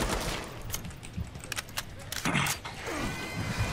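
SCAR-H assault rifle fire in the co-op zombie shooter Killing Floor 2, fast close shots in an irregular rhythm over a noisy game mix, with a voice talking briefly.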